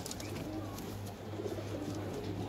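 Pigeons of the long-faced Madrasi breed coo softly in a loft, low repeated calls heard faintly against quiet background noise.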